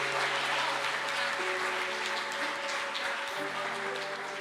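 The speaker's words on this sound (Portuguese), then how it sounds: "dê uma salva de palmas a Ele" A church congregation at an evening service claps in steady, full applause with a low sustained tone beneath, the clapping dense and even throughout without speech.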